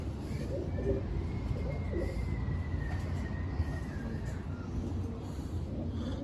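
A Ferozpuri female pigeon coos softly over a constant low rumbling background, with faint bird chirps mixed in.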